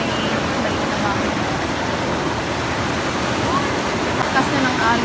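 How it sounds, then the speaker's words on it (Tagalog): Strong waves crash steadily against the rocks along the Cebu coastline, a loud, continuous wash of surf with no pauses and no speech. "Lakas na ng alon."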